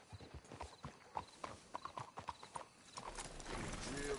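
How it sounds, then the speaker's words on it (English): Horses' hooves clip-clop in a steady, close rhythm in a PS4 video game, with a brief whinny and a low rumble building toward the end. "Let's hitch the horses up ahead."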